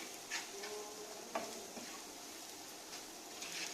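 Quiet, continuous sizzling of coriander powder and garam masala in a pan, with occasional scrapes and taps of a utensil stirring the contents.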